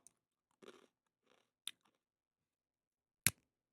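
Crunchy chewing heard close up as a few sparse bites and crunches, with short bursts of crackle between quiet gaps and one sharp loud crunch near the end.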